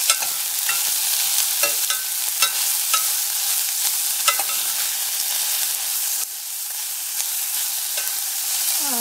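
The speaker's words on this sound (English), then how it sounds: "now let's add onion. And saute a little bit." Onion sautéing in a pan for papad dhal gives a steady, bright sizzle with scattered spatula scrapes and stirring clicks, close and continuous throughout.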